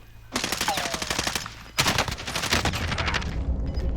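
Rapid automatic bursts from a Kilo rifle in the Call of Duty video game, two close, loud strings of gunfire separated by a brief pause.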